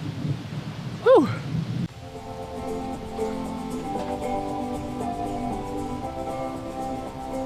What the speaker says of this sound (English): But we do have some storms. Storms are brewing.